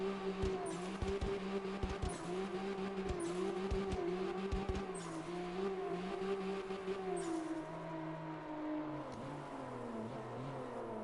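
Game car drifting in the Drift X Sim racing game, with a steady revving engine drone and repeated bursts of tire squeal, clear and continuous with no talk.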